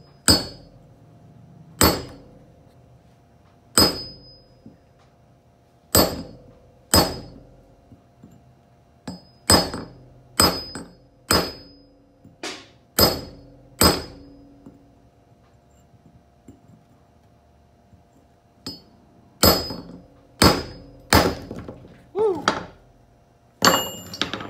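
Hammer blows on a chisel against a large Moroccan geode, sharp metallic strikes repeated about twenty times at an irregular pace, sometimes in quick pairs, close and loud with a faint ring after each hit.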